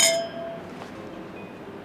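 A single bright clink of glass rings out at the start and decays into a faint shimmer, followed by quiet room noise.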